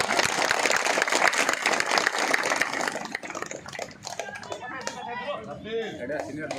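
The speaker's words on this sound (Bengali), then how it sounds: "সবাই তালি দেন।" Organization leaders and members at a gathering break into loud, dense applause for about three seconds, and then it fades into nearby talking voices.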